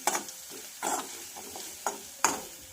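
Curry leaves dropped into hot oil in a pan while cooking a sprouted moth bean curry, bursts of crackling sizzle coming in several short sharp spurts, close and loud, with stirring between them.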